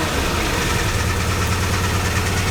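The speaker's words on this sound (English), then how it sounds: "So I'm going to rev it up and then the alternator is going to kick in." A Volkswagen Vanagon engine runs steadily and loudly up close, a dense low rumble with constant vibration and no clear rise in revs over the short stretch.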